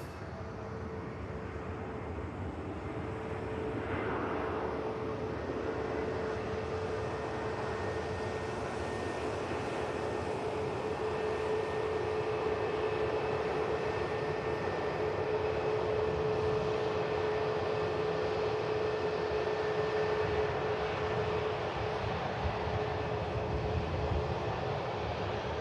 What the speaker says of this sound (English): here is that aircraft that's just touched down from Istanbul